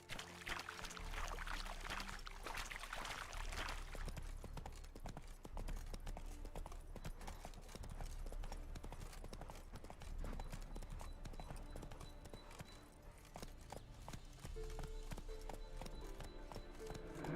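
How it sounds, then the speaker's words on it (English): Horse hooves clip-clopping steadily throughout a ride in The Witcher video game, a continuous rhythmic trot layered over game music and ambient sound. "Spooking my horse."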